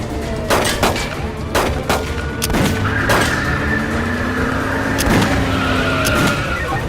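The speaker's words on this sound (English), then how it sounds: "Shot fired. Shot fired. Copy, shots fired." Sharp gunshots ring out during a car chase in an action movie, a series of loud, irregular cracks over roaring engines and tire skids, with a siren-like rising whine joining partway through.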